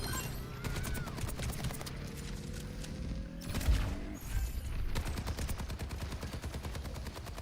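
Gunfire in the video game Battlefield 6, rapid automatic bursts rattling almost continuously, with a brief louder impact midway and sustained firing to the end.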